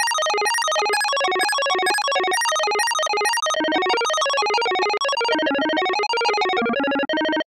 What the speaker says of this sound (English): it's basically the FM equivalent of a square wave. And it's useful for square synth-like sounds.